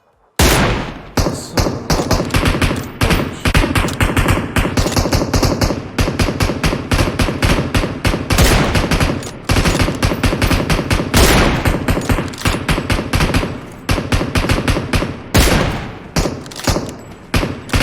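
Sustained automatic gunfire in PUBG Mobile, loud and close, with rapid bursts that run almost unbroken for many seconds and only brief gaps between them.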